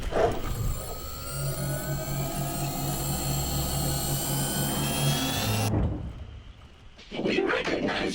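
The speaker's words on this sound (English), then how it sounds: "Look at all the planes." Aircraft engines from the Wasteland 3 video game drone in a loud, steady roar with a rising whine for several seconds, then cut off abruptly, followed by a brief game noise.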